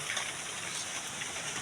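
Rain falls in a steady, dense hiss of drops on surfaces, even and unbroken throughout the short stretch, with no voices.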